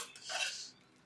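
A spoon scrapes once, briefly and close, while scooping hot cooked tender jackfruit thoran out of a pressure cooker. No one speaks.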